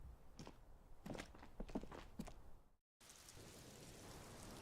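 Steady rain falls throughout a scene in the video game Disco Elysium, with soft thuds and footstep-like taps over it, a brief cut to silence, then the rain continuing evenly; no speech.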